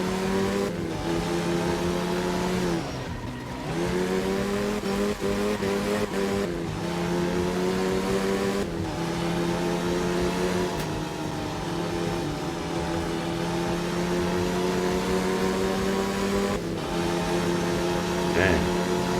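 Inline-six car engine revving hard in a career-mode racing video game, a loud continuous drone with rising and falling pitch as gears shift and the car drifts, with someone talking over it.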